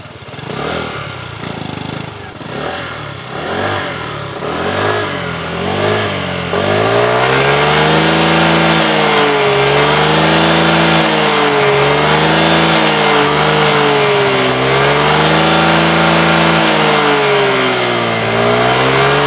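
A KYMCO Dink-R 150 scooter engine is blipped in a few short revs, then held in a loud, sustained run that rises and falls smoothly, close and alone with no talking.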